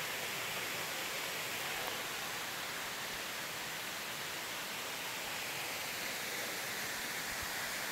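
Water roars steadily from waterfalls in Rock Creek, Laurel County, Kentucky, heard as a continuous broadband rush from below, fairly faint and even, with no voices.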